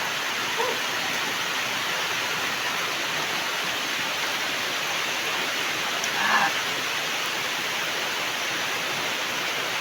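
Heavy rain pours down in a continuous, even hiss that holds steady for about ten seconds, with no clear breaks.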